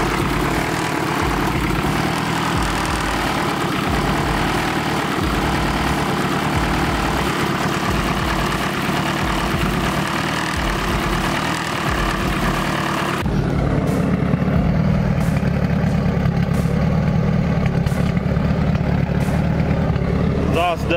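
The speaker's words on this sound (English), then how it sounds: "Exhaust doesn't really sound that much crazy. Seems to be idling pretty decent." A car engine fitted with a Piper cam and a GT3071 ball-bearing turbo idles steadily and fairly loud up close, a continuous rumble with a shift in tone partway through.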